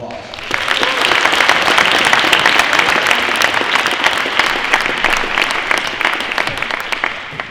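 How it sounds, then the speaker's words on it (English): An audience gives a guest speaker a sustained round of applause: dense, fairly loud clapping that swells quickly and holds steady to the end, with a voice audible under it. "let's give him another round of applause"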